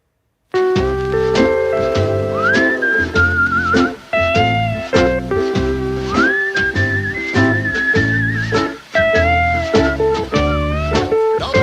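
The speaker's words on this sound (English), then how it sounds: "Put a little whistle in a song if it becomes a hit." A bright, melodic whistled tune in a song played on a radio show, carrying over a full band with steady drums and bass, with the whistle held clearly in front of the music.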